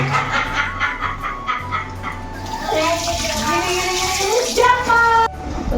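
Chicken meat being washed under running water at home, a continuous splashing and trickling stream with handling noises, while a dog barks and people talk in the background.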